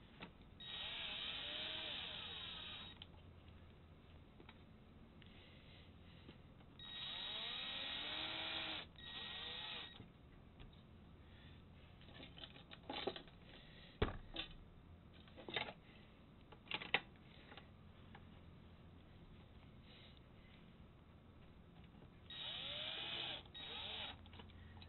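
A power driver whirs in short bursts as screws are driven back into plastic housings on a mirror motor, with quieter clicks and handling noises between the runs.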